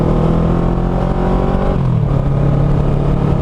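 Kawasaki Ninja 650R parallel-twin motorcycle from 2009 fitted with a Yoshimura TRC exhaust, revving close up with a loud, low-pitched drone that climbs and then settles, no talking over it.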